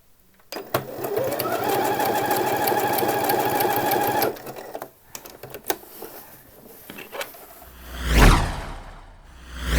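A sewing machine stitches buttonholes on a summer shirt, running in a steady, dense whir for several seconds before stopping, followed by a few fabric rustles and handling noises.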